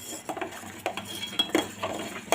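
A spoon scraping and clinking against a pot while stirring homemade ghee, with irregular metallic taps and scrapes close by, no talking.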